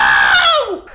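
A voice imitates R2-D2, the Star Wars droid, with a short, loud, high-pitched squeal that slides downward and cuts off abruptly.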